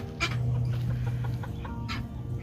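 Chickens cluck close by in a backyard run, giving a few short, uneven bursts of calls over a low steady background hum.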